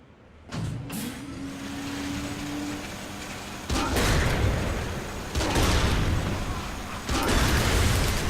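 Tank rampage in Saints Row: The Third, with the vehicle rumbling and grinding through destruction; loud, dense crashes and engine roar come in surges, with a brief whine early on.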